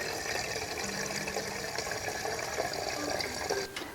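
Filtered rainwater running steadily into a container: a continuous close, bright rushing and splashing hiss that holds throughout, with a faint tonal note drifting in partway and no talk.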